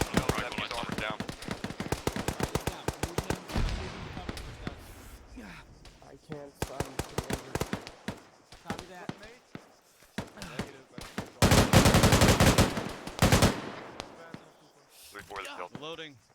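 Heavy bursts of gunfire crackle through squad training, rapid volleys and sharp single shots arriving in loud clusters, with a long sustained barrage near the end; voices call out between the bursts.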